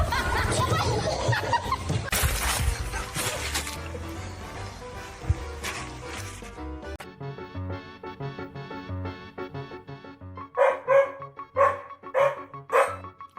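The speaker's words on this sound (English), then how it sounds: "Nothing humbles a bear faster than an angry dog defending its home turf." A dog barks angrily at a bear in a burst of loud, close barks, followed by a quieter, sparser stretch of sharp yaps and mixed background noise.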